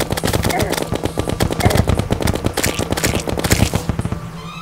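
Rapid gunfire in the Terraria video game, a dense, fast rattle of closely spaced shots continuing steadily throughout, loud and foregrounded, with a few faint spoken words mixed in.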